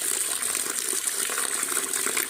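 Tap water runs steadily over fresh, oily fish being rinsed in a kitchen, a continuous close gushing and splashing with no talk.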